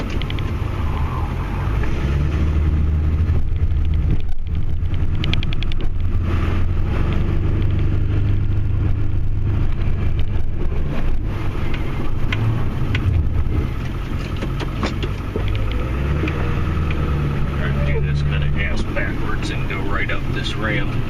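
A Ford F250 Powerstroke truck plows and scrapes snow, its engine giving a loud, steady low rumble throughout while someone talks over it.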